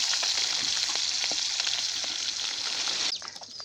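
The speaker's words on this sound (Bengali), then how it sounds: "মাছটা ভাজা হয়েছে আমি তুলে নেব।" Fish frying in oil in a pan in a home kitchen, with a steady close sizzle and crackle throughout that drops to a quieter, thinner sizzle near the end.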